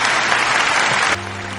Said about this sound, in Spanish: Demos un gran aplauso, muy merecido.